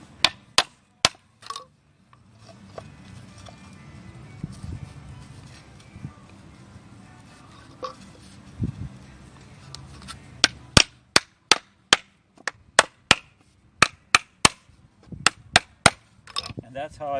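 A hammer drives 1.5 inch nails into a wooden slug trap, sharp wooden knocks coming singly at first, then in quick rapid runs near the end, with quieter handling sounds between.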